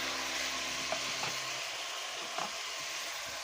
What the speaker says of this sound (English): I'm going to add my vegetable and my onion to the oil.